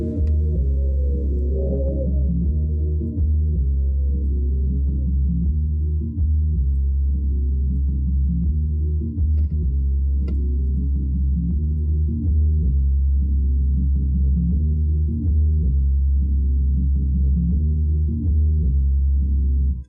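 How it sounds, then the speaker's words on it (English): Synth bassline programmed in FL Studio, a steady sustained low tone that runs throughout with shifting notes and no pauses, played alone at a strong, even level. "as you can hear, now you have basically a nice little bass to add to it"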